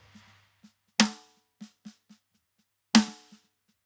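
Dry drum pattern from a prog rock mix, with two loud uncompressed snare hits and quieter ghost notes and kick taps between them, close and sparse with a sharp natural attack.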